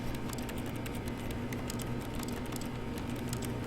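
Footsteps in The Stanley Parable video game that click like rapid computer keyboard typing, a quick steady patter of light taps over a constant low room hum.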